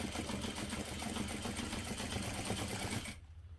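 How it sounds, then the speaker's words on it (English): A sewing machine runs steadily while stitching X lines through the center of a medium-size parachute knapsack, a dense, even mechanical whir that continues for about three seconds before stopping abruptly. "Now I'm going to sew the X lines through the center."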